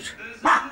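A miniature pinscher gives one loud, close, sharp bark indoors, with a person speaking briefly just before it.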